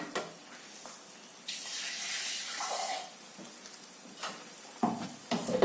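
Water streams into a pot of vegetable masala curry, a bright rushing pour in the middle that fades out, followed by a few clunks and scraping sounds.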